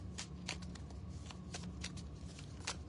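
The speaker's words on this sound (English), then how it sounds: "always forget that this deck really doesn't like to be shuffled" An oracle card deck is shuffled by hand, quiet close riffling with a quick series of crisp slaps and flicks at an uneven pace, no voice.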